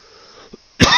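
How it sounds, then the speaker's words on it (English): A single short cough bursts out loudly near the end after near silence and a faint earlier sound, apparently from a person with a cold. "I'm sorry about the coughing,"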